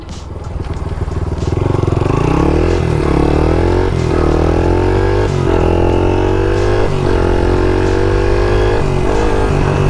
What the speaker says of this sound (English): Mini bike cruising,